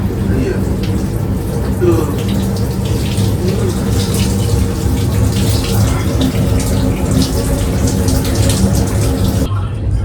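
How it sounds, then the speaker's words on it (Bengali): Water pours steadily from a tap in a train bathroom during a shower, a loud continuous close splashing rush that ends abruptly near the finish, with a voice briefly audible under it. "এবারে বডিতে বডি ওয়াশ লাগিয়ে একদম ভালোভাবে চান করছি"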